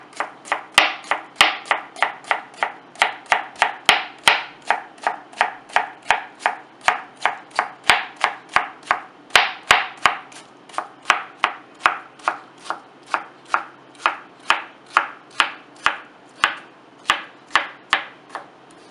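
Tabouli salad ingredients are chopped on a board with a knife, a long, steady series of crisp, evenly spaced chops close up, with no talking.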